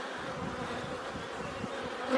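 Honey bees buzz steadily at a beehive, a dense continuous drone of many wings filling the whole stretch, close and unbroken, with no voices.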